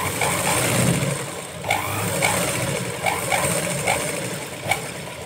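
A sewing machine runs steadily while stitching a double-folded strip of fabric, with a continuous whirring hum and a few brief louder clicks and bursts along the way.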